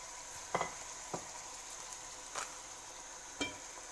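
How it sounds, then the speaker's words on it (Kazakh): Quiet, steady sizzling of carrots and onions frying in a pan for un kuyrdak, with four or five sharp scraping knocks of a stirring utensil spaced irregularly. "Қазір мен сәбіз бен пиязды араластырып қуырамын."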